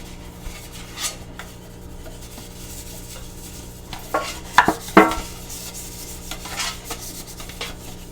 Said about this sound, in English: I'm going to just take a little bit of olive oil, and then I'm just going to grease the pan just a little bit